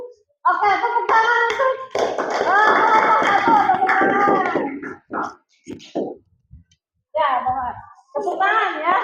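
Fifth-grade pupils in a classroom clap their hands together in a loud, rapid, patterned burst with some cheering, followed by scattered short claps and spoken voices.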